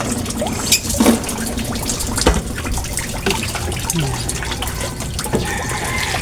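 Water splashes and trickles steadily onto drought-stressed succulents and cactus in extreme heat, with a few louder sloshes, under ongoing talk and background noise.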